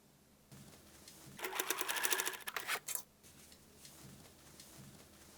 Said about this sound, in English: Sew a 39 centimeter elastic band to the pocket fabric, stretching it to create gathers.